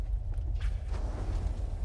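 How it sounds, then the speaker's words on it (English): A deep, steady earthquake rumble with grinding, creaking texture from the video game Borderlands 2, loud and continuous throughout. "The sound of those earthquakes marks my drills getting closer and closer to the vault."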